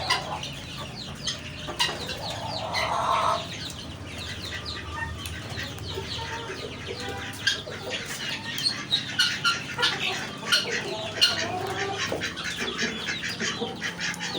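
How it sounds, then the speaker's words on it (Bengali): Large tiger chickens and roosters cluck and call on a farm in the morning, with ducks quacking nearby, a busy overlapping mix of near and farther fowl sounds, with faint talk now and then. "এটা হলো টাইগার মুরগি, মুরগ।"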